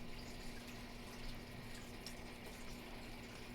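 Water poured steadily into a container while mixing aquarium water of different pH levels, a continuous faint splashing hiss with no pauses and no voices.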